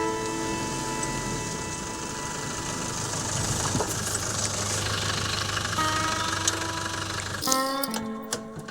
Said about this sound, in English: heading up that large hill, the roads eventually turned to dirt, and the Land Rover was in its native environment